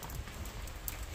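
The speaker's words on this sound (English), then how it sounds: "It's raining" Rain falls steadily on an old-town street in Bratislava at night, a soft, even hiss of drops on pavement with no voices.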